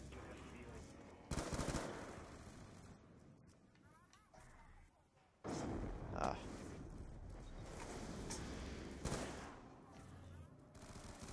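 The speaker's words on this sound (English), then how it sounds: "Who's shooting me in the back?" Gunfire in a Call of Duty zombies game from the Uprising DLC, bursts of rapid shots breaking out in several loud spurts between quieter gaps, mixed with muffled game noise.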